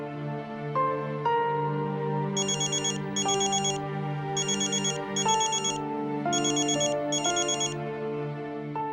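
A melodic phone ringtone repeats in short bright bursts over a steady electronic backing, loud and close, with no one speaking.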